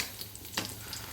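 Chicken cutlets fry in oil over a low flame, giving a steady, quiet sizzle and crackle with one brief louder spatter partway through; nobody speaks.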